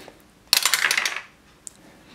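A short clattering burst of dice rolling and tumbling across a surface, made for an orc's defense roll in a tabletop game, is followed by one faint click, close and fairly quiet.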